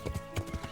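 Horse hooves clip-clop in a quick, steady rhythm in the medieval video game Kingdom Come: Deliverance, moderately loud against a faint background hum.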